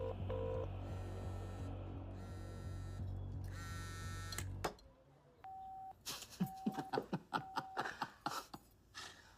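In the Hindi action film Sikandar, electronic tone sequences and beeps play first, then a series of sharp, evenly paced keypad tones and clicks as a number is dialed on a phone.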